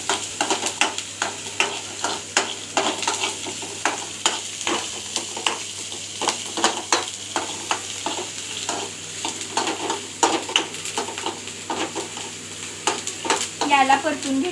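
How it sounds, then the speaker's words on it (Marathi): Curry leaves, peanuts and dal sauté in a pan, giving a constant close sizzle broken by a rapid, regular series of spatula scrapes and taps against the pan, with no talking. "याला आपण परतून घेऊया।"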